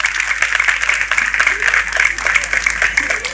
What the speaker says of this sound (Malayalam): ഈ സുവർണ നിമിഷത്തിൽ Shri Indrans അവർകളെ Thaikkattukara school complex LP സ്കൂളിലേക്ക് ഏറെ ബഹുമാനത്തോടെ നിറഞ്ഞ കയ്യടികളോടെ സ്വാഗതം ചെയ്യും